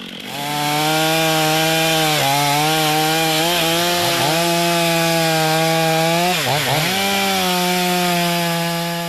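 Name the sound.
chainsaw cutting wood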